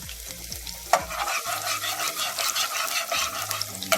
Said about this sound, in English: I'm burning the garlic a little bit.